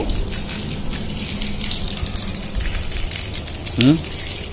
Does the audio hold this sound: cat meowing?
no